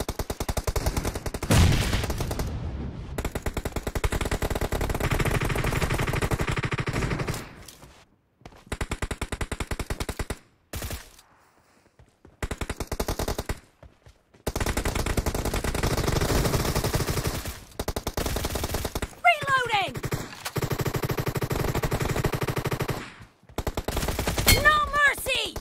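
Gunfire in the mobile battle royale game BGMI: sustained bursts of automatic fire, loud and close, broken by a few short pauses, with a voice talking at moments under the shooting.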